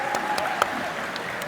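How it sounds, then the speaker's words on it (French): Spectators at a martial arts championship bout give a brief, light round of applause, heard fairly faintly against the hall's background noise. "On peut les applaudir."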